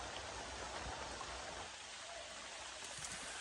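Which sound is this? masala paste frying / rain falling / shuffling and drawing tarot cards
rain falling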